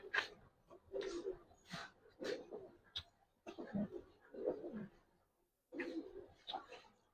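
A Jabra pigeon cooing in repeated soft, throaty phrases with short pauses between them, close and fairly quiet.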